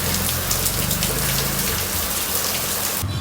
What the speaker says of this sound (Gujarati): વરસાદ આવવાનું શરૂ થઈ ગયું